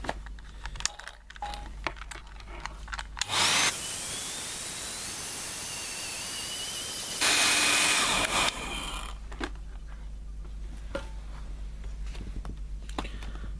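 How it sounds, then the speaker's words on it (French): A hair dryer blowing to dry a watercolour painting, a steady broad whooshing rush that switches on abruptly, holds for about five seconds with a brief louder surge, then cuts off, with faint handling clicks around it. "On utilise le sèche-cheveux."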